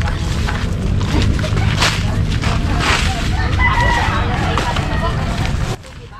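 A rooster crows on a small farm, loud and near amid broad outdoor noise and activity, the sound cutting off abruptly near the end.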